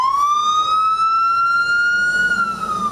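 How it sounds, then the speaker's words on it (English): Emergency vehicle siren wailing loud and steady, its pitch rising slowly and then falling, sustained alone with a low rumble of road traffic beneath. "When the lights and sirens turn on"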